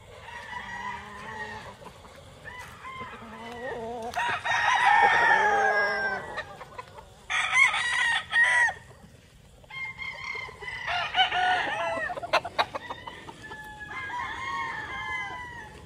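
A breeding rooster crows several times, loud and close, amid clucking from other chickens in a farmyard, with no voices.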